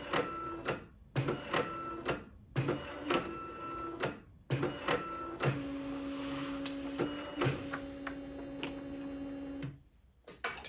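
A 1988 Canon second-generation inkjet printer at work, its carriage and paper feed making repeated mechanical runs with whirring motor tones and clicks, short bursts separated by brief pauses, then a longer steady hum before stopping.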